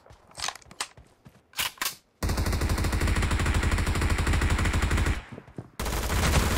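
Gunfire in the mobile battle royale game BGMI: a few quick single shots, then a long loud sustained burst of automatic fire, a brief pause, and another burst.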